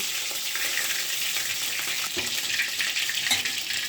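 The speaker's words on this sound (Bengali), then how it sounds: "মাছটা দেখুন কি সুন্দর ভাজি হয়ে গেল" Fish frying in a pan gives off a steady, close sizzle with crackling spatter, lasting throughout at moderate volume, and no voices.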